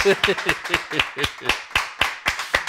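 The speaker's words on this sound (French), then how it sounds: "on va vous applaudir et vous dire bravo pour ce prix ETI exportatrice" A small studio group claps for winners of an export company award, a sparse rhythmic run of about a dozen distinct, fairly close handclaps with slight tonal ringing.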